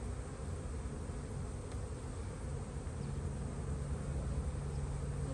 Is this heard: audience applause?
no